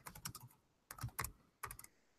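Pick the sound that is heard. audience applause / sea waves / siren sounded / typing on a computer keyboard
typing on a computer keyboard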